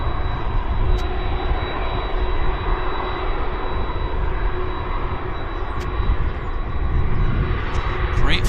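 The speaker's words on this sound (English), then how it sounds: "Beautiful classic Boeing in all its glorious splendor." Classic Boeing jet airliner at Vancouver International Airport, a loud continuous engine roar with a steady rumble and a high whine tone holding throughout.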